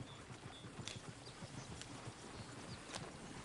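Horse hooves in the video game Red Dead Redemption 2 clip-clop in a steady rhythm, quiet and somewhat distant, with a few faint higher accents over low background noise and no speech.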